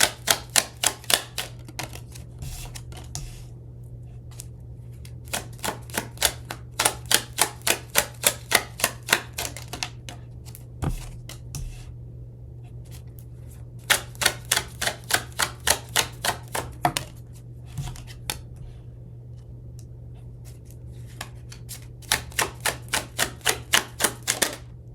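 Tarot cards shuffled by hand in repeated quick bursts of crisp riffling clicks, separated by short pauses, over a steady low hum, with no talking.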